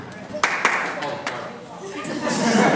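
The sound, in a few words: audience clapping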